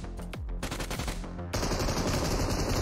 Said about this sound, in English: How dare you shoot at Raiden?